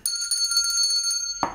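A bright notification bell chime rings with sustained ringing overtones for over a second, ending in a short soft swoosh.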